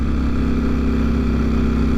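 A motorcycle engine idles along at low revs while riding in a relaxed, unhurried way, giving an even, continuous drone with a steady pulsing throb and no rise in pitch.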